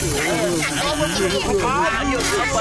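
In the Motu Patlu Tamil cartoon, a snake hisses loudly and continuously at close range beneath a frightened voice crying out.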